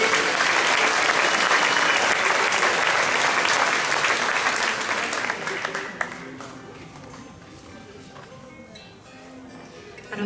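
A concert audience applauds loudly and steadily for about six seconds, then the clapping thins to scattered claps and crowd murmur.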